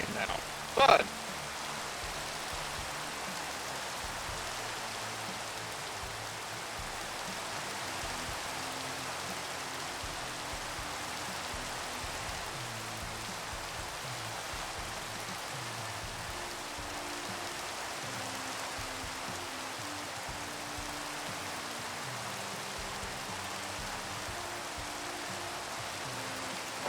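Steady rain falls in the Create Skyblock video game, a soft even hiss that continues throughout after a brief click near the start.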